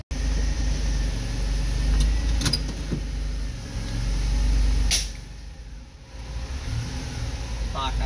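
A car's engine runs and idles on its first test drive after repair work, with a steady low rumble close by and a couple of brief knocks or clicks, while people talk over it.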